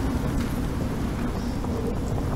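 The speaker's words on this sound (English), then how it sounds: "The storm keeps pushing." Steady heavy rain with a low rumble of thunder during a storm in a video game, a continuous loud wash of noise throughout.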